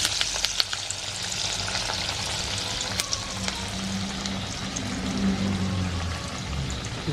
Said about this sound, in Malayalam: നമുക്ക് എണ്ണയിലോട്ട് ഇടാം. ഓരോന്നും അങ്ങനെ എണ്ണയിലിട്ട് കൊടുക്കാം.